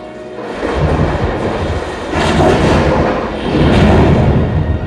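A rolling thunderstorm with deep, sustained rumbles of thunder that swell in two louder waves over a constant low roar, heard alone without voices.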